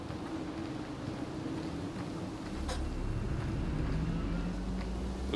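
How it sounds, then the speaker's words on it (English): Ship engine in the space game Star Citizen, a low continuous rumbling drone that swells slightly midway and holds steady, heard alone without talk. "I hear an engine"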